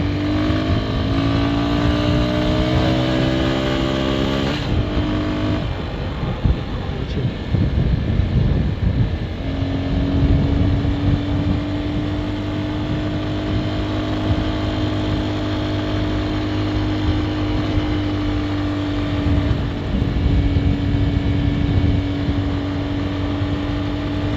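An RKS X1 250 motorcycle on knobby off-road tires rides along a village road. Its engine drones steadily and close, with wind noise throughout and a brief shift in pitch around a gear change.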